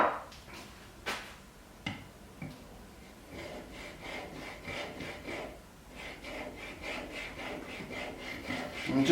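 Hand plane blade being honed on a 16,000 grit sharpening stone, a soft rhythmic back-and-forth rubbing stroke repeated steadily up close after a few sharp taps, quiet and without talk.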